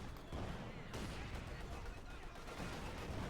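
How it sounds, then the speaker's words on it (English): Maxim machine gun and mortar fire in a Company of Heroes 2 battle, a faint, dense wash of continuous distant gunfire and blasts with no clear gaps. "Maxim hard at work, mortar hard at work."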